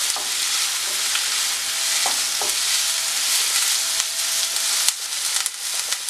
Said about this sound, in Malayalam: അത് ചേർത്ത് വഴറ്റി കൊടുക്കുക. ഇതെല്ലാം കൂടെ നന്നായിട്ടൊന്ന് വഴറ്റിയെടുക്കണം.